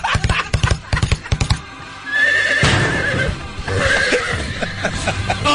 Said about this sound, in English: do you want to, like, do the horse noise, too?